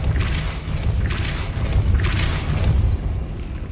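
The Depulso spell is cast three times in the Hogwarts Legacy video game, each a deep whooshing boom with a bright burst on top, coming at regular intervals over a low rumbling background.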